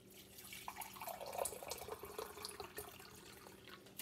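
Hot water pours steadily into a honey mixture, a continuous splashing, gurgling stream heard close and fairly faint, with no talking.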